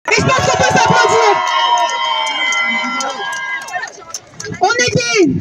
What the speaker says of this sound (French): Et je pense qu'on peut s'applaudir.